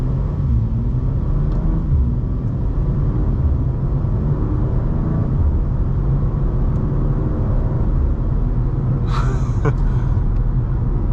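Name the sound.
BMW G87 M2 with M2CS tune driving and shifting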